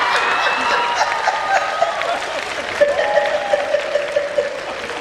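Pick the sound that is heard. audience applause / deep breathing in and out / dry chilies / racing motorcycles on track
audience applause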